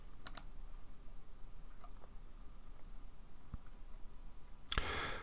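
Faint computer mouse clicks and light keyboard ticks sound during software use: a quick pair of clicks near the start, a few soft taps in the middle and a sharper burst at the end, over quiet background hiss.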